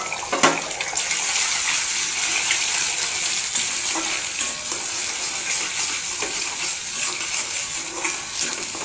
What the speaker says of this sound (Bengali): আমি প্রথমে সবার ফার্স্টে ডিমটা ভেজে নেব।